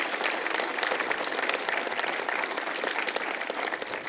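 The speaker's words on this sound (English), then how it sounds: "If I could have a round of applause for those guests." Steady, dense applause from the audience at a university convocation ceremony honouring guests, fairly faint and continuous, with no voices over it.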